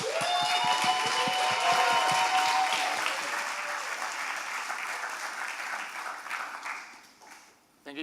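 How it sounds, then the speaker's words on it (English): An audience at a startup demo day applauds as a founder is introduced, steady clapping that is loud at first and gradually thins and fades out toward the end. "Please, round of applause for Diego from Entrenarme"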